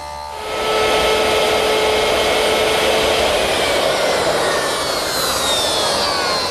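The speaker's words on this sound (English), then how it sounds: "I've set up my stacked dado head cutter at the table saw with a sacrificial fence on my metal rip fence" A table saw spins up with a stacked dado head and a sacrificial fence, cutting a 5/8 by 3/8 inch rabbet in old pine: a loud, steady, broad whirring roar that rises quickly and holds for several seconds.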